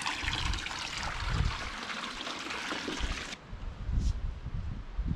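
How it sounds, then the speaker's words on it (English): Hot spring water gurgles and bubbles continuously out of the ground between rocks at Erzishan hot spring, Hualien, Taiwan, a steady close burbling with splashy low churning throughout. "Oh, here it is, bubbling out of the ground."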